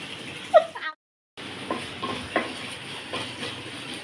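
Spices crackling in hot oil while dal is tempered in a home kitchen, with a brief sharp sizzle, a short drop to silence, then soft steady frying and clinking underneath.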